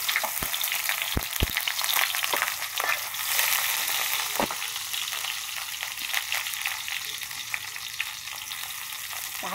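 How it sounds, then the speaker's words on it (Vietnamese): Onions fry in hot oil in a pan for a vegetarian tofu-in-tomato-sauce dish, a dense close sizzle punctuated by sharp pops and clacks of stirring, with no talking. "Mình chuẩn bị chảo dầu nóng rồi mình cho hành vô, phi hành cho nó hơi vàng cho nó thơm."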